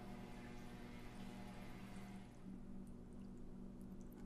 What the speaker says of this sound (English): do you hear water running?